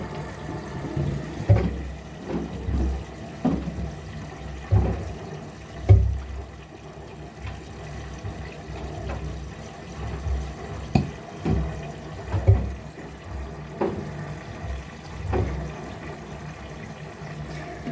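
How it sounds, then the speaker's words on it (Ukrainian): An LG F2V5GG9T washer-dryer fills with water from its hose during a wash cycle, giving a steady low rushing flow with soft thumps and clicks throughout, moderately close and with no talk. "Наливається вода."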